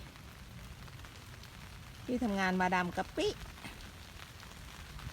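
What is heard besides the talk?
rain falling outdoors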